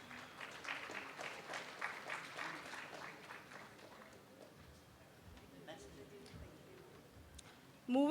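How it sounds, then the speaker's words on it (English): Applause from the audience at an award ceremony during a conference valedictory session, a moderate burst of clapping that fades out over several seconds, heard fairly distant in a large hall. "A big round of applause for MSEDCL."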